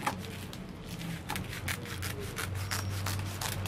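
Plastic bag being cut into strips for a simple handmade rug, giving a steady scratchy rustle and rub throughout, close and moderately quiet with a low hum underneath.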